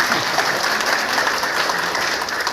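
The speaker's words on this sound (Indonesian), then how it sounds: "Tepuk tangan dulu buat Pak Ketua." Audience applause for the chairman at a KWK Timur gathering, dense and steady clapping from a crowd, sustained at an even loudness throughout.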